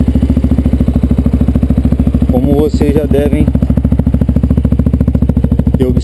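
Yamaha Ténéré 250 single-cylinder engine idling close up with an upgraded Coyote exhaust, iridium spark plug and iBooster, a steady rapid low thump throughout while someone speaks briefly over it.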